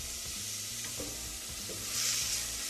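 Meat chunks sizzle steadily in a pot with onions for Persian celery stew while a spoon stirs them, a continuous close frying hiss with soft scraping.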